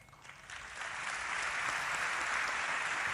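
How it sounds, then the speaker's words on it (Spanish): Applause from a political event with Cristina Fernández de Kirchner and Alberto Fernández, heard in a replayed recording: a faint, steady wash of many hands clapping that swells slightly and holds on, distant and muffled. "El aplauso de Cristina."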